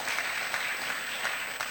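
Enthusiastic congregation applause during a church worship service, a steady wash of many hands clapping at moderate loudness, continuous across the whole moment without speech.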